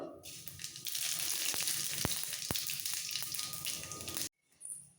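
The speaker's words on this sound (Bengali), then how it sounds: "এর মধ্যে একটা শুকনো লঙ্কা ফোড়ন দিচ্ছি চিরে দিলাম লঙ্কাটাকে একটু ভেজে নেব হাফ চামচ পাঁচ ফোড়ন" A split dried red chilli and half a spoon of five-spice seeds hit hot oil for a dal tempering, bursting into a loud, crackling sizzle with sharp pops, then cutting off abruptly to near silence.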